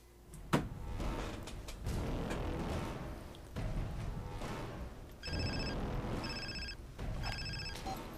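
Mobile phone ringtone cutting through the busy, loud sound of the Prototype 2 video game, three short repeated ringing bursts in the second half, with no talk over it.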